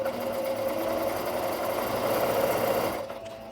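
A home sewing machine runs at a single constant speed, a continuous close whirring hum that eases off near the end.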